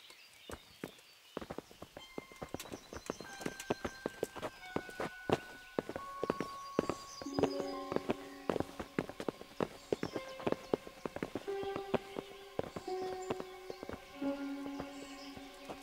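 Horse hooves clip-clopping in the medieval video game Kingdom Come: Deliverance, a series of sharp, irregular hoof strikes moving at a walking pace, heard alone over soft sustained musical tones with no talking.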